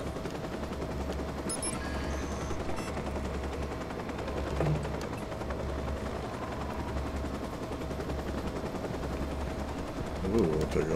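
Automatic rifle gunfire in the video game Watch Dogs, bursts of rapid shots over a steady droning backdrop of game ambience, with brief sharp effect sounds and some speech.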